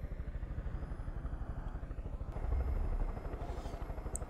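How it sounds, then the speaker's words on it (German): A helicopter in the video game Far Cry 5 gives a steady, rapid rotor chop with a low engine drone throughout, swelling briefly louder midway. "Nehmen wir mal einen Heli, oder?"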